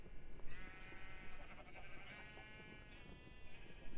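Sheep in the video game Everwind bleating repeatedly, several overlapping drawn-out calls over a low, steady background hum.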